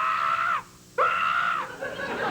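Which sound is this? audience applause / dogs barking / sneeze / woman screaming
woman screaming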